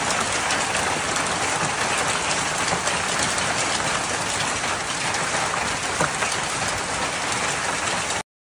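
A historic hailstorm pounds Paris with a dense, continuous roar of hail and heavy rain, loud and unbroken throughout before ending abruptly.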